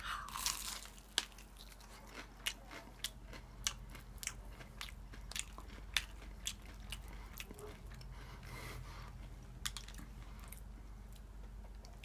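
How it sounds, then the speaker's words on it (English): Close, crunchy chewing of McDonald's Mighty Wings fried chicken wings, with sharp bites and crunches repeating roughly every half second to second over a low steady background hum, no talking. "so try to chew with my mouth closed"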